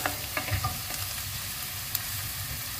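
Garlic fries in hot oil in a pan for chicken liver adobo, a dense, steady sizzle close by with a few soft clinks from stirring.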